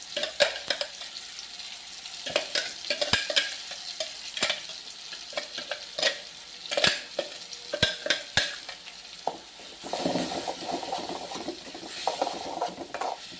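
Ginger, garlic, onions and small shallots are sautéed in a pan for a mushroom gravy. A steady sizzle carries sharp, irregular scrapes and clicks of a spoon stirring close by, and a louder frying burst swells near the end, with no voices.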